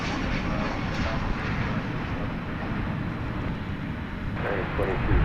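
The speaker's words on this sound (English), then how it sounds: "That was American Flight 2640 from West Palm Beach, 737-800." An American Airlines Boeing 737-800 jet at Dallas Fort Worth at night gives a loud, continuous engine roar, close and steady, swelling a little toward the end.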